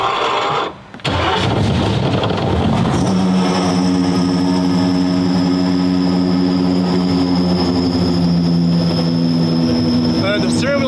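A 1,300 hp twin-turbo Ferrari F12 running on ethanol cranks, then catches and settles into a loud, steady idle with a continuous drone close by, after a brief gap near the start; voices talk over it.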